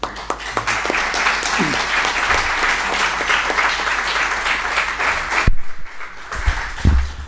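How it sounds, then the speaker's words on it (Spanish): Audience applause after a talk on Latin America, Óscar Romero and Medellín, steady, full clapping from a room of listeners for about five seconds before it stops abruptly, then a voice speaks briefly. "Un aplauso."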